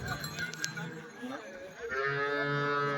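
A heavy, top-breed cow moos at a Sunday cattle market in Chintamani. One drawn-out, tonal low call rises out of a murmuring market background late in the clip, moderately near.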